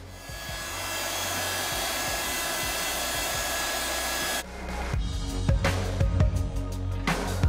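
A hair dryer blows steadily to dry mixed media sea life craft tags, a loud continuous whoosh that shifts in tone partway through as light clattering and handling noises join it.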